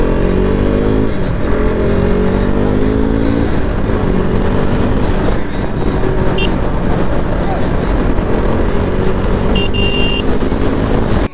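A KTM RC390 motorcycle is ridden on the road, its engine droning loudly and unbroken with pitch shifts as it speeds up, and wind and traffic noise blend in throughout.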